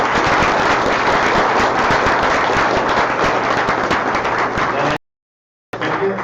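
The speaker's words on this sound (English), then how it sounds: "Round of applause for all of them." A conference audience applauds the speakers at a Go programming meetup, dense sustained clapping filling the room for about five seconds, then a sudden silence before the applause briefly resumes.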